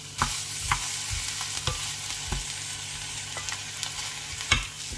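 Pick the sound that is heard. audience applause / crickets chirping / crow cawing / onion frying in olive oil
onion frying in olive oil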